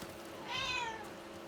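A single drawn-out meow from a nearby house cat, rising then falling in pitch, against faint room noise.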